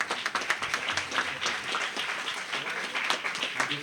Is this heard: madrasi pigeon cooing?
no